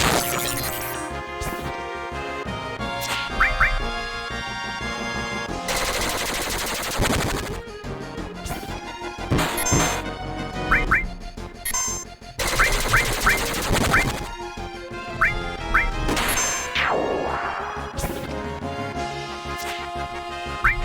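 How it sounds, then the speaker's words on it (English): Flying creatures in Final Fantasy VII fire laser shots amid battle music, with repeated sharp zapping bursts, crashes and impacts layered over a busy, loud game soundtrack. "So yes, we have like these flying creatures that can shoot lasers."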